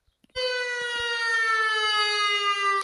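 A synthesized ambulance siren sounds alone as a loud, sustained wailing tone with rich harmonics, starting abruptly after a few faint taps and holding steady with slight pitch drift.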